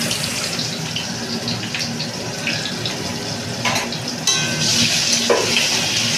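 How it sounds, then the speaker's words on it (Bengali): Potatoes with turmeric and biryani spice fry in a wok, a steady close sizzle with clinks and stirring scrapes, growing a little louder toward the end. "এবার আমি আলুগুলোকে কড়ার মধ্যে আস্তে আস্তে দিয়ে একটু হলুদের গুঁড়ো দিয়ে আর একটু বিরিয়ানির মশলা দিয়ে ভালো করে ভেজে নেব।"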